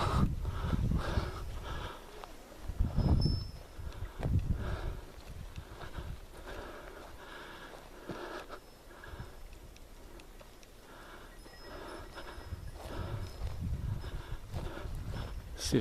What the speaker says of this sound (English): you can hear the goats and the bells